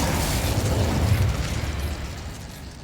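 A fiery blast spell exploding in the video game Hogwarts Legacy, a dense, loud rumbling burst of roaring noise that holds steady, then slowly fades over about three seconds, with no voices.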